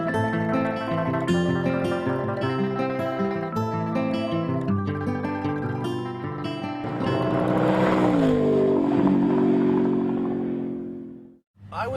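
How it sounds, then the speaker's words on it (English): A new Volkswagen GTI is driven hard on a racetrack, its engine revving and straining under load and tires squealing through corners, with a steady loud roar that cuts off near the end. "we are going to whip the snot out of Dan's brand new car on this racetrack"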